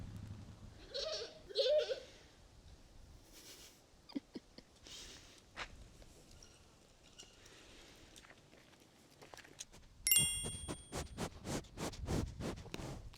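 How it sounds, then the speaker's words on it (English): A goat bleats twice up close near the start, then scratching, rustling and knocking follow as it gets into something, ending with louder clattering and scraping. "Here's goat number 1, getting into something she shouldn't, obviously."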